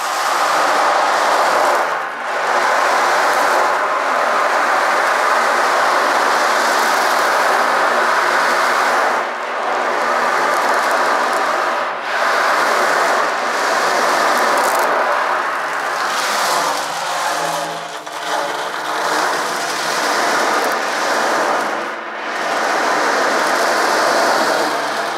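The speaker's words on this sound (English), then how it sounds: "This is an ocean drum." Ocean drum being played: a continuous wash of rolling beads swells and recedes in slow waves, like surf, steady and fairly loud with no talking.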